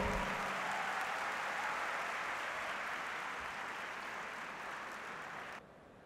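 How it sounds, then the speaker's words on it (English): A conference audience gives sustained applause for a speaker. The clapping is dense and even and fades slightly before dropping off near the end. "Give them a big round of applause."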